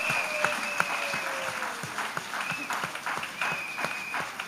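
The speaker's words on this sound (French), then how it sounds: "Clap." A church congregation at an evangelistic meeting claps and applauds in a steady, crowded patter, with louder claps punching through and voices ringing out above it.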